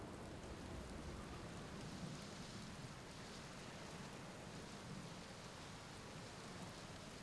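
A storm in the Outer Wilds video game: steady, faint rain hiss with a low continuous rumble underneath, an even wash of weather noise with no voices.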